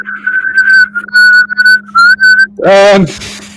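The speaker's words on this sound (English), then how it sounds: "Ooh, weird whistling noise." A weird, wavering whistle sustained for a couple of seconds in broken pulses, then a brief burst of voiced sound at the end.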